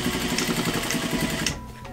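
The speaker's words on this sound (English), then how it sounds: "Now what I'm gonna do is just sew the fly to the fly shield just at the bottom here." Sewing machine stitching the fly to the fly shield on wide-leg pleated pants: a fast, even mechanical chatter at close range that runs for a moment and then stops.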